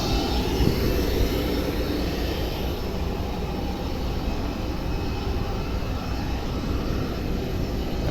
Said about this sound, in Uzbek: 787 uchishga tayyorgarlik ko'ryapti.